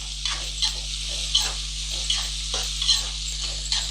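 Onions frying with salt in a pan for aavarampoo semiya upma, a soft, steady sizzle with light stirring ticks over a low electrical hum.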